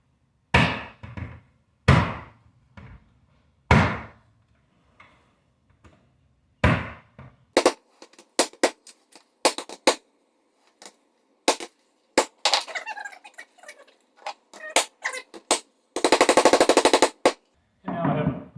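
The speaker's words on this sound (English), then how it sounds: "And now we have my favorite hammer." A hammer pounds a lid down onto a 30-pound bucket of black beans indoors. The sharp, loud blows are spaced apart at first, then come faster in an irregular run of hits.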